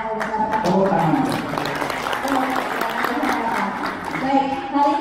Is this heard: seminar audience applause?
yes